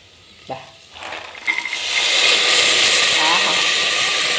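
Green peas drop into a pan of frying masala, starting with a few clinks and stirs and then building into a steady, loud, close sizzle.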